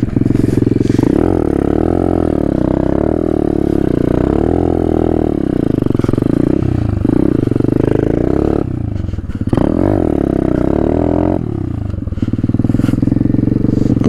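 An Apollo 125 X19 dirt bike rides through 5+ inches of deep snow on icy streets, its engine droning loud and close throughout, rising and falling with throttle changes and occasional dips.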